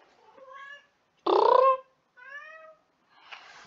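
Pet cat Lulu meows three or four times in separate close, clear calls with short silent gaps between them, and no talking.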